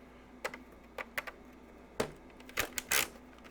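Small plastic toy gun iron sights click into place, heard as a few sharp, light snaps and taps spaced irregularly over a quiet background.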